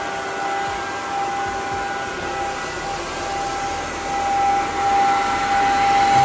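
A wet floor cleaner running in economy mode hums steadily as its brush scrubs and its motor sucks up water, a loud continuous whir with a thin high whine that holds steady and swells slightly as it moves.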